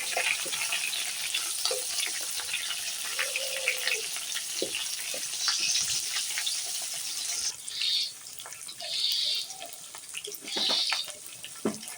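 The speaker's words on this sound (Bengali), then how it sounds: "তেজপাতা কাঁচামরিচ কুচি পেঁয়াজ কুচি দিয়ে একটু লাল লাল করে ভেজে নিতে হবে" Bay leaf, chopped green chilli and onion fry in oil with whole spices for a Bengali chicken curry, a continuous close sizzle with scattered stirring clatter and a few brief splashy bursts near the end.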